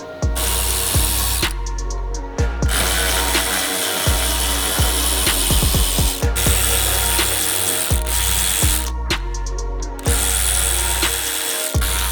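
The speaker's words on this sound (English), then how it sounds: "we have to unscrew all these bolts that we see under here" Ratchet clicks loudly and steadily while unscrewing the row of bolts holding the OEM front splitter under a Corvette C7 Z06. Short bursts of rapid clicking are broken by brief pauses, close up, with no talking.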